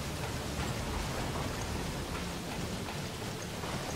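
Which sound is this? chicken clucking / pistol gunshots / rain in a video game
rain in a video game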